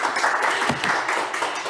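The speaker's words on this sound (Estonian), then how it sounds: "Aplaus." An audience applauds steadily after a presentation on funding opportunities for local governments, a dense, even wash of clapping with no voices.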